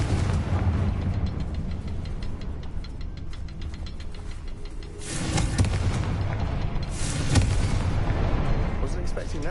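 Fiery Confringo spell blasts in Hogwarts Legacy on PS5, booming explosive bursts around the middle and later seconds over a rumbling game soundscape, with a voice heard at times.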